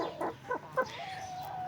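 White rooster among chickens, giving a few short, quiet clucks in quick succession, faint and fairly near with no one talking.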